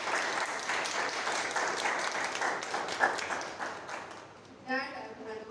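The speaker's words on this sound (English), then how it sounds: "So a huge round of applause for each one" Applause at a Toastmasters club meeting: a room of people clapping steadily for several seconds, fading out as a voice speaks right at the end.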